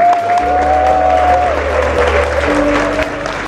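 An indoor audience at a Seoul city business award festival applauds the arriving mayor, a loud, continuous wash of clapping filling the room, with a sustained tone and a low hum running beneath it.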